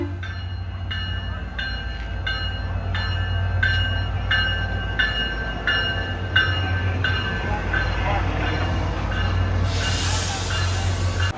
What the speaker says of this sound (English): Now here's the clip that I got of the Sunrail pulling back in.